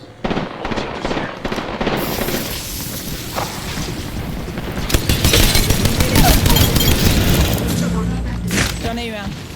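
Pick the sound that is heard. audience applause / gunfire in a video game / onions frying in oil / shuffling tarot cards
gunfire in a video game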